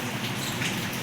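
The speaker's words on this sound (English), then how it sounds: "It's been raining," Rain falls steadily in a dense, even hiss of patter, close and moderately loud with no voices.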